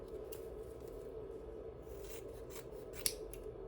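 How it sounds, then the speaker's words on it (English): Scissors snip through a strip of tape in a quiet room, a few soft close cutting sounds with one sharp click near the end over a low steady hum. "then you're gonna cut this in half"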